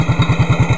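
A motorcycle engine warming up in the morning, idling with a steady close, loud, pulsing low thump that repeats about ten times a second.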